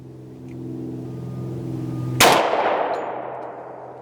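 A single loud, close gunshot from a Kimber Rapide 1911 pistol cracks sharply midway through the clip and rings out with a long decaying tail over a low steady background hum.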